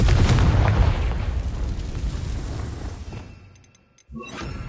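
Confringo fire spell explosion in the Hogwarts Legacy video game, a loud deep booming blast that rolls and fades over about three seconds, then a brief quiet before faint game effects return.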